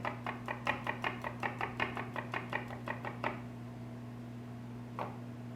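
A knife chops garlic finely on a cutting board, about a dozen quick, evenly spaced taps close by for three seconds, then one last single tap after a short pause.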